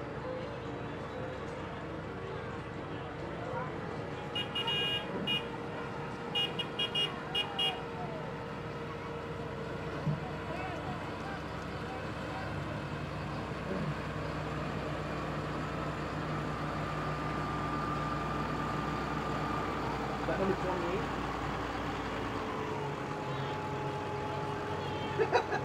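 A John Deere 7830 tractor rolls in an outdoor holiday tractor parade, its engine giving a steady, moderately loud diesel drone that continues throughout with faint background noise.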